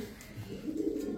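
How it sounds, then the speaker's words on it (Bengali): A red checker racer pigeon gives a soft, low coo rising and swelling over about a second, close and fairly quiet. "রেড চেকার চুইঠাল রেসার কবুতর।"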